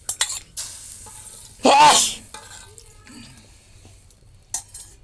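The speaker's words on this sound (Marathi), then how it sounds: "फोडणी देताना चरकान आवाज आला पाहिजे, कडक फोडणी झाली पाहिजे." A sharp burst of loud sizzling as spices hit hot oil for tempering, then quieter clinks and crackles with scattered bursts of sizzle.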